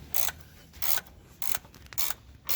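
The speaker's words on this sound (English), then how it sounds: "this is a ratchet wrench, so it's the one that spins through, so you don't have to constantly take it off" A 25mm ratchet wrench clicks through short turns on the lower control arm bolts of a 2010–2013 Range Rover Sport L320, five crisp ratcheting bursts close up with brief pauses between, no voices.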